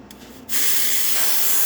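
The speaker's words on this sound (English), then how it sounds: "beautiful shower head coming out of the machine" A short pause, then a sudden loud, steady hiss of water spraying from the group head of a Zacconi Riviera espresso machine, continuing without a break.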